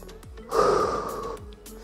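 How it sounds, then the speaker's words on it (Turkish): A person takes a deep breath in and lets it out during a cool-down at the end of an exercise session, one slow, clearly audible inhale-exhale close to the mic, with no talking over it. "Derin nefes al, ver."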